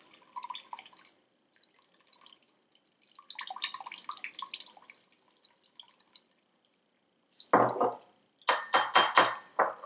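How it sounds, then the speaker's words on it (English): Soy sauce, about a quarter cup, poured into a bowl for a Spam musubi sauce: two short bursts of liquid splashing and trickling near the end, after faint kitchen clatter, with no talking. "And pour it into the bowl."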